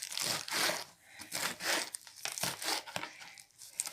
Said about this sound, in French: je finis de couper les épinards